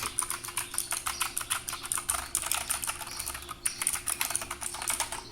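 Fast typing on a Husky Gaming Blizzard 60% mechanical keyboard with clicky Gateron Blue switches: close, crisp keystrokes in quick irregular runs with brief pauses, alone and fairly quiet.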